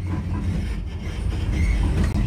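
A Vienna metro train arriving at a station, with a steady heavy low rumble and a faint wheel clatter rolling on throughout, close and fairly loud, with no voices.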